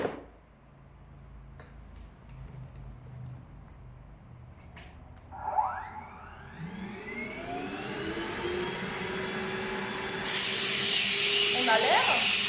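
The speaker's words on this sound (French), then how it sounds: "je vais l'adapter sur mon rainbow pour faire comme si c'était un aspirateur classique à filtre" A Rainbow vacuum cleaner, fitted with a textile brush, starts up with a rising whine that builds into a loud, steady hissing roar.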